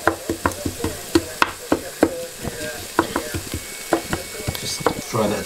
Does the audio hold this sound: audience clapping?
no